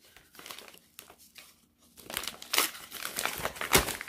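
Crinkling and tearing of a plastic Amazon bubble mailer being ripped open by hand, close up, with scattered rustles that grow louder and sharper into a couple of strong rips.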